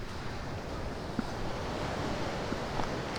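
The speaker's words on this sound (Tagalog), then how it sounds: "Sobrang lakas ng hangin." Strong wind in the aftermath of a super typhoon roars steadily outdoors as a dense, continuous rushing buffet against the microphone, with no one speaking.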